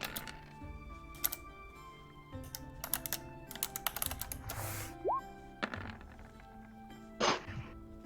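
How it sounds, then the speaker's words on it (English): Computer keyboard typing during an online tabletop roleplaying session, a steady run of close key clicks with a few louder taps and brief pauses, no talking. "I was already typing it out."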